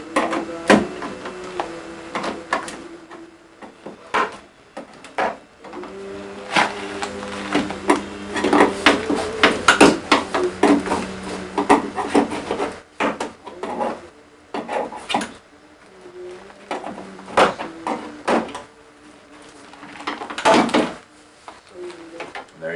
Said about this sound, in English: Just get this center notch in the vicinity of that rivet, and it tends to just come out all by itself.